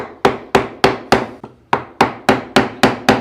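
A wooden mallet strikes a wood chisel while carving a mortise: about ten sharp, evenly spaced blows, close and loud, with a brief pause midway and no talking.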